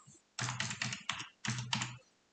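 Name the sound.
typing a password on a computer keyboard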